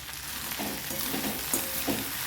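Okra and potato frying and being stirred in a pan, with a steady sizzle and a few soft scraping strokes, close and alone with no voices.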